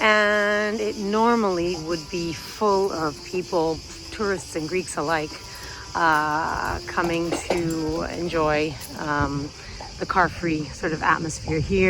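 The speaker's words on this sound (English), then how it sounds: "You can hear the cicadas in the background." A constant high buzzing drone of cicadas on Dionysiou Areopagitou Street by the Acropolis in Athens runs beneath someone talking steadily up close.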